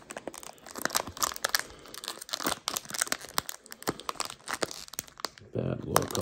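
Panini Prizm 2023 value packs being torn open, a run of quick, close crinkling and ripping foil bursts with rustling between them, fairly quiet overall.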